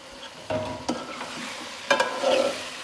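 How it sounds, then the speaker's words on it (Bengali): Chopped tomato and ridge gourd sautéed for koi fish curry sizzle softly in the pan while a spatula scrapes and knocks a few times at uneven intervals, close and fairly quiet. "আর একটু কষিয়ে নেব।"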